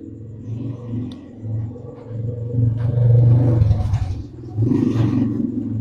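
A two-cylinder motorcycle engine revs up in loud bursts over a rumbling idle, rising and falling several times, close by.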